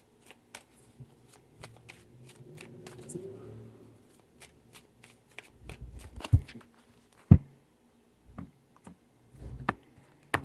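A deck of tarot cards is shuffled three times, giving close riffling bursts and sharp clicking taps of cards on a table, with quiet gaps between the shuffles.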